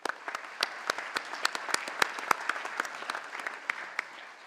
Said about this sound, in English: And a round of applause for these.